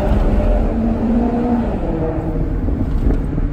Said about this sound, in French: C'est vrai, on a un V8 Ferrari qui chante.